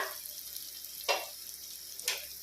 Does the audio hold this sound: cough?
no